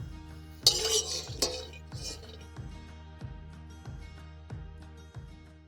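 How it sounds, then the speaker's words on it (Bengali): Dry Maggi instant noodle cakes snapped apart by hand in a village kitchen, giving a few sharp crisp cracks early on, then quieter crunching over a steady low hum. "ভেঙে নেবো ম্যাগিগুলোকে, না ভাঙলে হবে না"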